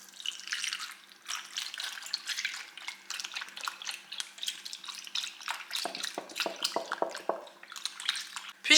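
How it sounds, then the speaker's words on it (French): A litre of soy milk pours over dates in a salad bowl, a close, trickling liquid splash with uneven bursts that grows heavier and more gurgling near the end. "Je mets mes dattes dans un saladier et je les couvre d'1 litre de lait de soja."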